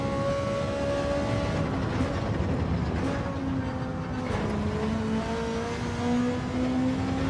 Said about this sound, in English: It's a nice sounding car